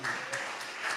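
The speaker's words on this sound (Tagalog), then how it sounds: "Palakpakan natin ang malakas na palakpak." A church congregation applauds in a short, faint patter of clapping, with a few sharper hand strikes standing out.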